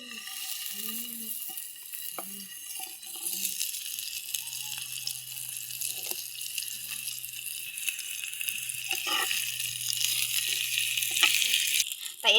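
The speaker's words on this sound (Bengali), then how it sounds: "সামান্য অল্প একটু তেল দিব জামাগুলো হালকা করে একটু ভাজে নিব" Pointed gourd pieces frying in a little oil in a pan: a steady, close hiss and crackle of sizzling that builds slightly over time, with brief speech at the start.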